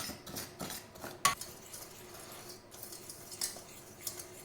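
A utensil stirs cocoa into cake batter ingredients in a bowl, giving a series of light scraping and clinking strokes, with one sharper metallic tap near the start and softer scrapes later, close and fairly quiet.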